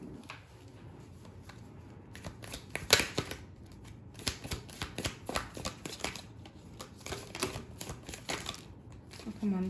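Tarot cards being shuffled and drawn by hand, a quiet irregular run of close crisp riffles, flicks and slaps that grows busier midway, with soft talking between.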